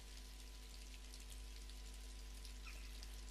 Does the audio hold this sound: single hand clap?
no